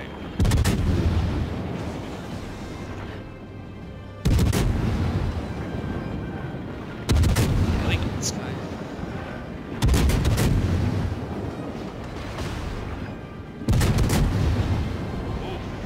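German battleship secondary guns fire in World of Warships, five heavy booming salvos at steady intervals of about three seconds, each rolling off into a long rumbling tail, with faint talk underneath.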